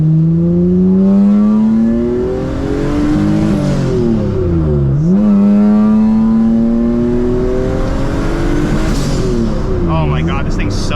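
Engine of a turbocharged V6 Honda Civic making about 600 horsepower, driven at night with a custom exhaust, revving hard as it pulls through rising and falling gears, loud and close throughout.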